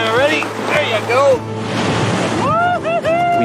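Ocean waves rolling onto a beach at a surf camp, a steady washing rush of surf with wind noise, while people talk and call out over it nearby.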